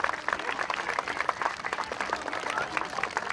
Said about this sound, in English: One big round of applause for all the managers, all the coaches.